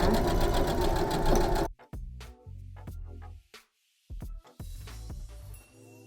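A domestic sewing machine stitches a curved shirt neckline, first running in a loud steady whir, then stopping and starting in a series of short bursts with mechanical clicks between them.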